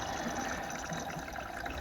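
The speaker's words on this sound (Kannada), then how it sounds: "ಈಗ ನಿಮಗೆ ನೀರಿನ ಸೌಂಡ್ ಕೇಳಿಸ್ತಾ ಇರ್ಬೋದು" Steady rushing of water pouring into an LG washing machine as it fills, a constant broadband gush with no pauses, fairly close and continuous throughout.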